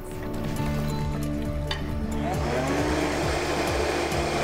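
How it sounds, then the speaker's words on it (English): Vitamix blender running steadily on a hot butternut squash soup made with stock, a loud, dense whirring roar that holds through the whole stretch and swells slightly partway, close by and alone. "I'm gonna throw this into the Vitamix and it's gonna be done in seconds"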